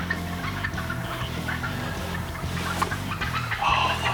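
Wild turkeys call with clucks and gobbles during a morning hunt, a dense, close flock chattering steadily with scattered flapping as birds take off.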